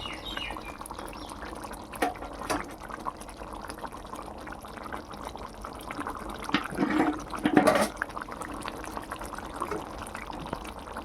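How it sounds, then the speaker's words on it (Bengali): Potol rasa, a pointed gourd curry, is poured from one cooking pot into another, making a soft continuous liquid gush that swells briefly louder near the end, close by with no talk. "এবার আমি অন্য পাত্রে ঢেলে নেব"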